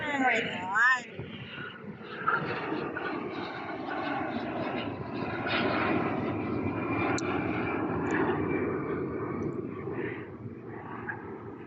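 Airplanes taking off at a busy airport: a sustained, fairly distant aircraft engine roar swells and holds, with people talking over it and a brief chirp near the start.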